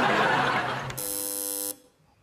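On the Countdown game show, during the conundrum round, a contestant hits the buzzer: one loud, harsh electronic buzz of under a second cuts in after a burst of studio noise, then stops abruptly, leaving near-silence.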